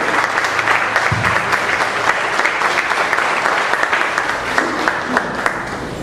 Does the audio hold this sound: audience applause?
yes